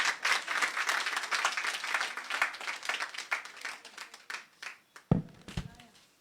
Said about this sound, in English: Then clap for me.